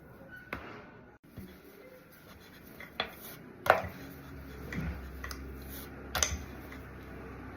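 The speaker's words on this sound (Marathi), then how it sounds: "आपण आता ना ह्याचे छान गोळे करूया फटाफट आणि शंकरपाळी लाटूया" Shankarpali dough rolled out with a rolling pin on a board, producing irregular close wooden knocks and light thuds over a quiet background.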